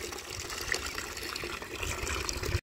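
Hot water from an electric motor pump gushes steadily into a container in a village home, a continuous close, loud rushing pour lasting a few seconds before cutting off abruptly.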